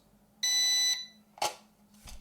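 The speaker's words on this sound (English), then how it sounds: "You should hear a beep, and once you hear the beep, wait 1 second, release" A single sustained electronic beep tone from a V66 mini drone remote controller pairing, followed by a couple of short clicks or chirps, fairly quiet against a faint hum.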